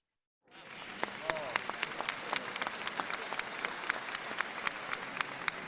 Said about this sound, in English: Huge congratulations and a big round of applause for Team 33.